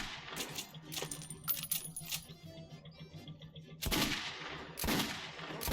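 Gunfire in the video game Metro 2033 comes as a few sharp, loud shots, mostly near the end, over low game ambience and a metallic clinking passage.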